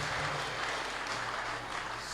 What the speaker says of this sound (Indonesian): sekali lagi beri tepuk tangan yang meriah buat kedua paduan suara kita